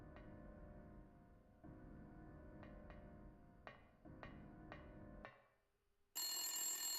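An old-style telephone bell rings in repeated bursts inside the PS1 video game Silent Hill, each ring ending in a sharp strike, fading to near silence before a loud, harsh burst of sound cuts in at the end.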